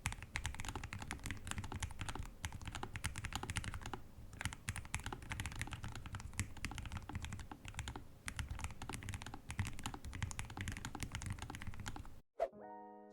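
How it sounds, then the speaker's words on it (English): Steady rapid typing on a Lofree Flow Ghost keyboard fitted with linear switches, a dense close-up clatter of keystrokes with brief pauses, ending with a short separate musical tone. "Here are some typing sound tests on the Lofree Flow Ghost keyboard with the linear switches."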